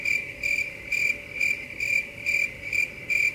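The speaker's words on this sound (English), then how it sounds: "It's the crickets." Steady cricket chirping sounds alone in regular pulses, about two per second, with no voices.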